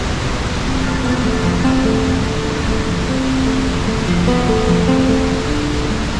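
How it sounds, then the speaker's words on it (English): Dunhinda Falls in Sri Lanka, water cascading over rocks in a constant, loud, broadband roar with no pauses, heard up close and alone. "As the water cascades over the rocks, the mist rises, creating an enchanting view."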